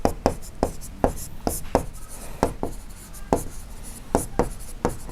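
Handwriting an answer to a Class 6 maths problem on area, with a pen or marker making a close series of sharp, regular strokes and taps spaced a fraction of a second apart, with no speech.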